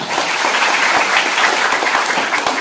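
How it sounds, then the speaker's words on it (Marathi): Children at a summer camp clapping together in welcome, a loud, close, continuous rattle of many small hands with no voices over it. "आपण जोरदार टाळी सर्वांचं स्वागत करूया"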